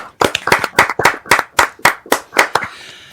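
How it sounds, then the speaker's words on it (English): About a dozen sharp, distinct hand claps ring out in a quick steady rhythm, close and loud, from one or a few people in a small podcast room rather than a large crowd. "Can we actually give a round of applause?"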